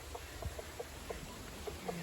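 Chickens cluck in short, soft repeated calls, spaced irregularly and fairly close, over a low steady background rumble.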